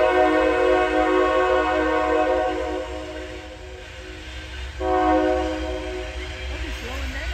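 A train passing on a nearby track near rural land, steady loud rumble with a sustained horn tone throughout, dipping briefly before swelling again.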